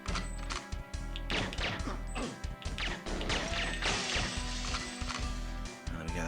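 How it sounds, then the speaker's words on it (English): In the GoldenEye 007 video game, gunshots shatter glass in a rapid series of sharp smashing crashes that repeat across several seconds over a continuous game soundtrack. "That glass breaking"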